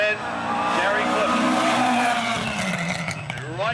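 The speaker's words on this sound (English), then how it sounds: "Right behind the Nissan of Gary Cliff" A Nissan rally car drives a classic stage at the Otago Rally in 2013, its engine loud and close as it revs hard through a continuous roar with shifting pitch and no clear talking.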